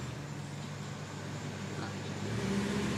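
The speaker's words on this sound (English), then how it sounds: "This is like a big UPS truck delivering food." A big UPS delivery truck rumbles past with a steady low engine drone that grows slightly louder toward the end.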